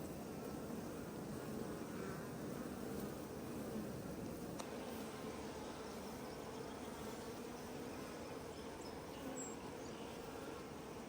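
A swarm of honey bees buzzes densely around backyard hives on a homestead at installation time, a steady, close, unbroken drone that fills the whole stretch with no voices.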